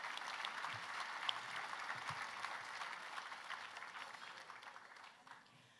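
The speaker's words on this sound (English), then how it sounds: "Another round of applause for them" A room of guests at a charity breakfast event applauds, a fairly quiet wash of clapping that tapers off steadily toward the end, with a few voices mixed in.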